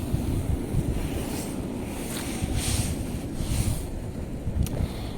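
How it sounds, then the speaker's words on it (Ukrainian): Steady outdoor wind buffets the microphone with a continuous low rumble and hiss, swelling in gusts, strong enough to knock boxes over. No voices. "Ой, вітер на дворі, коробки перекидає."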